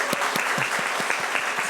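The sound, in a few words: church congregation applause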